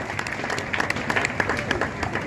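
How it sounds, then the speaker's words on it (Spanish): A crowd at an outdoor reception in Muez, Navarra breaks into brisk applause, clapping steadily and fairly close for a couple of seconds. "¡Un aplauso!"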